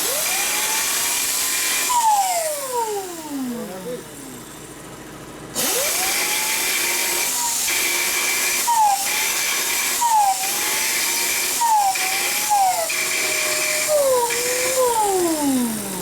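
An angle grinder works a metal exhaust bracket for a 2000 Harley-Davidson FXDX Dyna with a Bassani exhaust, spinning up loud and whining with repeated pitch dips as it bites the metal, close and continuous, with no talking.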